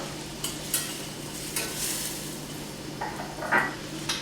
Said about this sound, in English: we're going to mix this in, and we're going to cook it lightly